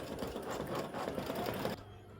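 An embroidery machine stitches one colour of a crescent moon, stars and flowers design, giving a steady, fast, dense needle rattle close by that cuts off abruptly near the end.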